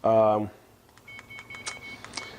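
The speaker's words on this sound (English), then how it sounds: "I'm going to set a good old timer right here" A kitchen timer is set while cooking a chickpea and red lentil curry, giving a series of short, faint electronic beeps and button presses just after a man's brief speech.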